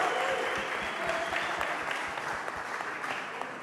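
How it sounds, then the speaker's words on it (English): An audience at a conference debate session applauds an audience member's question, steady clapping that starts full and tapers slightly over a few seconds. "Give him a round of applause."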